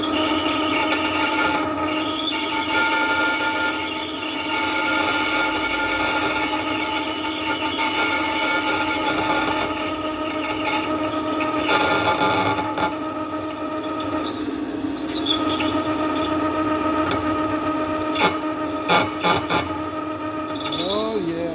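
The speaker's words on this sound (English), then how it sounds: "Let's see if we can get through it without tearing the tip off the drill." A drill bites slowly into a hard, repeatedly nitrided big block Chevy crankshaft, a loud continuous metallic grinding whine with harsh scraping bursts near the end.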